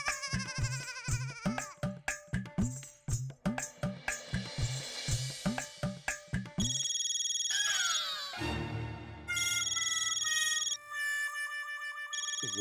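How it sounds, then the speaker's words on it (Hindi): Tapu's mobile phone rings with a repeating electronic melody of pulsed tones, then shifts into a sustained tonal tune, loud and close with no talk over it. "ये तो टप्पू का फोन बज रहा है,"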